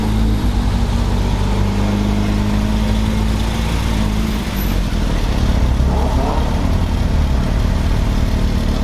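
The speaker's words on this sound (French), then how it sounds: "On a une très belle GT3 Touring qui arrive." A grey Porsche GT3 Touring drives up at a car gathering, its engine a steady, loud, continuous rumble close by with no talk over it.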